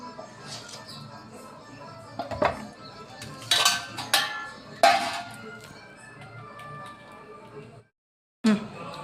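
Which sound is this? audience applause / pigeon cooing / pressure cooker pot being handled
pressure cooker pot being handled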